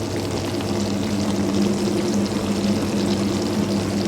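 A washing machine fills with water at full cold-water pressure, a steady rushing hiss over a low mechanical hum that holds unbroken throughout, with no voices.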